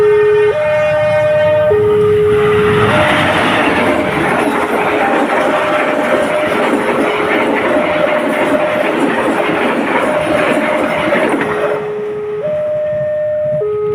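A long train rushes fast over a level crossing, a loud, sustained roar of rolling wheels while the crossing bell dings steadily throughout and continues as the rumble fades.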